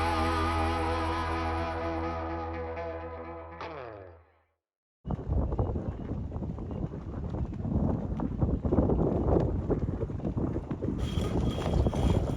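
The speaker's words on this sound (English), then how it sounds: "It's very windy today" After a sustained musical tone fades out, gusty wind buffets the microphone in a loud, continuous roar with rough, uneven surges, beside a boat out of the water.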